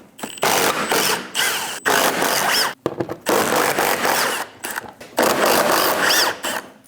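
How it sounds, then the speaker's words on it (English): A 10mm socket on a ratchet removes front bumper bolts on a 2011 or later Dodge Durango, with close, quick bursts of ratcheting clicks in several separate runs and short pauses between them. "Using a 10mm socket, we're going to go down the front of the bumper,"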